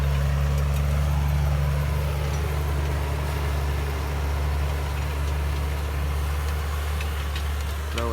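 A 2009 Case Puma 165 tractor with multicontroller runs hitched to a seed drill during wheat sowing, its engine a loud, steady low drone that holds unchanged throughout, close by with no talk over it.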